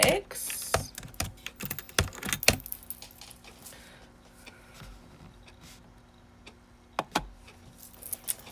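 Typing on a computer keyboard: quick clusters of key clicks at the start, a quieter gap, then a few more sharp taps near the end, close and clear.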